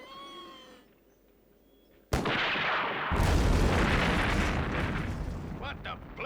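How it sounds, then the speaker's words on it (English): A sudden massive blast from the demolition of an old research center erupts after a quiet stretch, followed by a long, loud rumbling roar and crumbling debris that slowly settles. "It seems to be coming from the old Allington Research Center. They must have started demolition."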